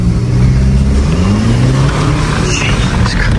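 An Audi A3 with a 2-litre TFSI engine accelerates from inside the car, a loud continuous engine rumble with rising pitch under heavy road and wind noise, with a voice speaking over it.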